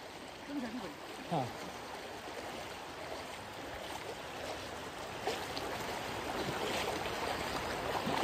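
Floodwater rushing across a submerged ring road in flooded Manipur, Karkala area, a steady broad wash of flowing water close by, with a few faint voices in the background.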